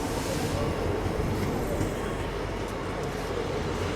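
A diesel passenger train rolls into an Indian station with a steady loud rumble and faint wheel clatter, heard close by.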